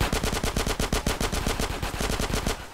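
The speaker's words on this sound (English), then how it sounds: "Hey, someone's shooting behind me" Rapid automatic gunfire from GTA San Andreas, a steady machine-gun rattle of about twenty closely spaced shots, loud and continuous with no talking.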